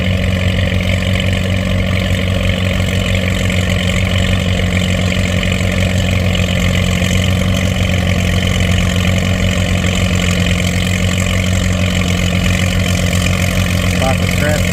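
An antique tractor in the 6,000 pound class at a tractor pull in Mt. Carroll, Illinois runs loud and close, its deep engine drone holding steady throughout while a commentator talks over it.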